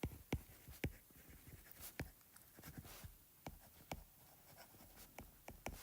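A marker or chalk taps and scratches across a board during a physics lecture on variable mass mechanics, in short irregular strokes heard alone at moderate volume with no talking.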